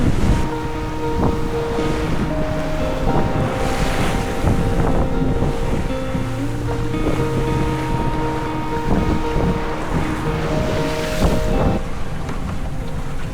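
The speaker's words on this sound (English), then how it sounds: "We are sailing on the edge." A sailboat beating upwind at sea near La Palma and Tenerife, with steady rushing water and wind buffeting, rigging or instrument tones sounding intermittently, loud and continuous without talk.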